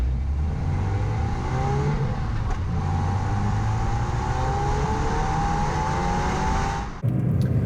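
A Mazda MX-5 Mark III (NC) being driven, its engine droning steadily from inside the car with rising whine as it pulls through gears, a brief dip and shift just before the end, no talking.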